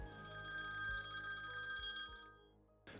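A telephone rings with a sustained electronic trill that pulses steadily for over two seconds before cutting off, close and clear with no talk.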